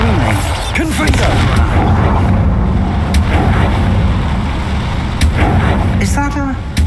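A Bombarda spell goes off in Hogwarts Legacy, a loud, dense burst of blasting and rumbling debris that fills the scene at close range, with game sounds layered over it.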